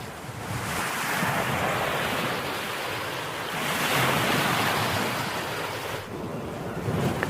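Sea waves roll and wash steadily onto the eroding Odisha coast, a continuous loud surf roar mixed with wind buffeting the microphone, with no voices.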